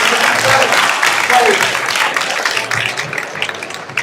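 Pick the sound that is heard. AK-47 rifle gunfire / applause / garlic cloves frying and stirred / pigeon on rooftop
applause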